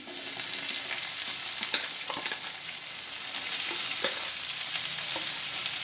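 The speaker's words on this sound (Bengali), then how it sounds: "এখন দিয়ে দিচ্ছি পেঁয়াজ কুচি।" Chopped onion fries in hot oil with a steady, close crackling sizzle, broken by occasional spatula scrapes and light clicks. No voices.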